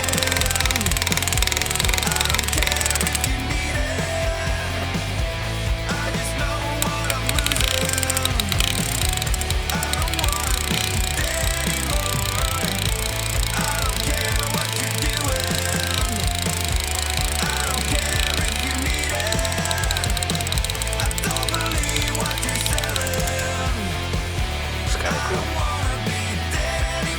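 Rotary burr in a flex shaft adapter engraving metal, a loud continuous buzzing grind with rattling texture, sustained throughout without pause.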